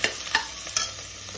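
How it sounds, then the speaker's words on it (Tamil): Mint and coriander leaves sautéing in hot ghee for ghee rice, giving a short, close sizzle broken by a few quick stirring scrapes, no voices. "புதினா கொத்தமல்லி போட்டு நல்லா வதக்கிக்கலாம்"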